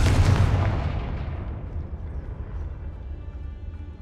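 A Confringo blasting spell explodes in the Hogwarts Legacy video game, a loud booming blast that hits hard at the start and then rumbles and decays over several seconds with no voices.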